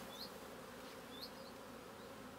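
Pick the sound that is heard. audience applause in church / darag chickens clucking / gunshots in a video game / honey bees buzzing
honey bees buzzing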